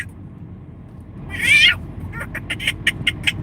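A man imitates a cat with his voice, giving one drawn-out meow followed by a quick string of short, chirpy mews, close and fairly loud, with no other talk.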